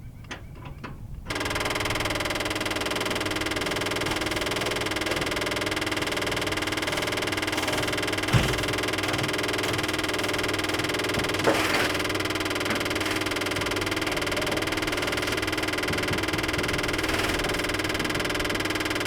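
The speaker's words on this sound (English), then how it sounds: "Now I guess let's cycle the pump, see what happens." An electric fuel pump on a long-dormant 1957 Dodge being restored switches on and runs with a steady, close mechanical whine and hum, sustained evenly with a couple of faint knocks.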